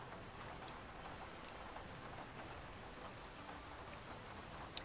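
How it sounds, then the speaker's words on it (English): Steady rain falls in the military video game Arma 3, a faint, even hiss of drops with scattered patters and no voices over it. "Let's get rid of this pesky rain."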